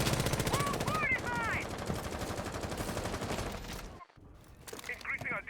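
Rapid bursts of gunfire crackle through a tactical shooter esports match in a bomb round, dense and loud at first. The shots drop out briefly near the end, then return alongside brief whistling tones.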